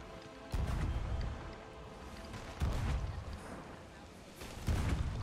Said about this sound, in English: Go ahead and use cannon, Austin.